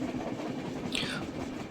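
Interior of the Thirukkural Express, an LHB-coach passenger train, running at speed: a steady rolling rumble with rhythmic wheel clatter, plus a brief squealing whine partway through, heard alone without talk.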